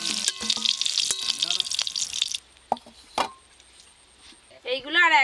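Fish roe frying in a pan gives a bright crackling sizzle for the first couple of seconds, then drops to faint spits and pops before a brief voice-like burst at the end.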